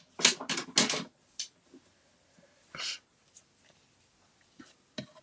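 Scissors cutting paper for a pumpkin craft give several quick close snips in a cluster, then sparse single cuts and rustles, with no talk.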